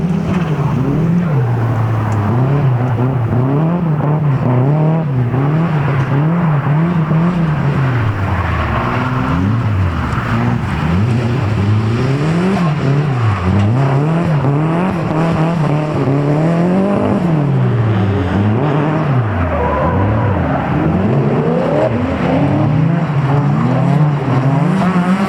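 A Nissan 240SX with a turbocharged KA24DE-T engine laps a race track on a track day, its loud engine note rising and falling continuously through gear changes and corners, heard from inside the car with no talking.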